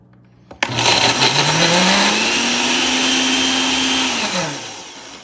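A blender whirs loudly and steadily for about four seconds, blending mandarin orange dressing with white wine vinegar, its motor pitch rising slightly before winding down to a stop.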